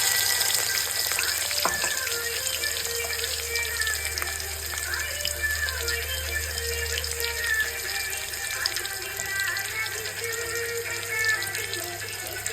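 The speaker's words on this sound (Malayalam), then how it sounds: "സവോളയും കറിവേപ്പിലയും ഇഞ്ചിയും വെളുത്തുള്ളിയും കൂടെ ഇന്നും വഴന്ന് വരുന്നുണ്ട്" Onion, curry leaves, ginger and garlic sauté in a pan for chicken curry, a continuous close sizzle with faint crackles and a low hum beneath, steady throughout with no talk.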